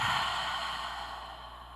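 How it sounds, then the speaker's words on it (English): A single quick, sharp exhale during a yoga breathing exercise, a soft breathy rush through nose or mouth that starts strongest and fades slowly, heard alone and close in a quiet room. "So we'll begin with an inhale and an exhale"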